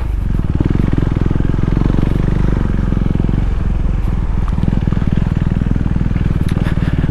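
A motorcycle ridden at speed while the rider shifts gears without the clutch: a loud, steady engine drone close by with a fast, even throb, continuous throughout, with no voices.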